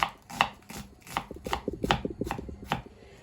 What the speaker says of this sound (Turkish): soğanlarımızı yemeklik doğrayacağız